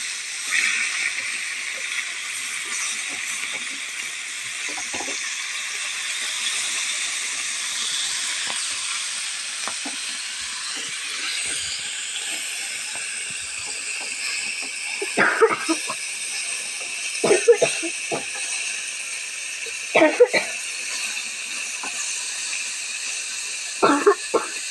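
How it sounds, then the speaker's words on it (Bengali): Fish fries in oil in a pan for a bitter-gourd fish dish, giving a constant close hiss of sizzling, with a few brief utensil clatters near the end. "এই এখন ভেজে নিচ্ছি"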